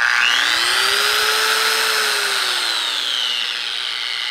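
Arbortech Mini Carver power carving tool running steadily at its slow variable-speed setting, a continuous close motor whine with a tone that rises slightly and then falls off, alone with no talk.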